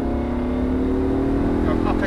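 A Lamborghini Gallardo Performante accelerates around Goodwood Motor Circuit, its engine note holding a steady, loud, rising drone, with an instructor talking over it throughout.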